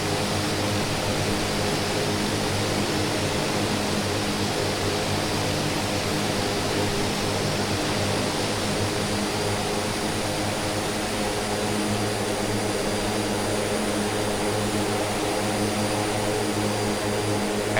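An aircraft's left engine starting in a flight simulator game: loud, steady propeller and engine roar that fills the whole stretch, with no talk.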